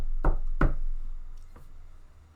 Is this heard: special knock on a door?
yes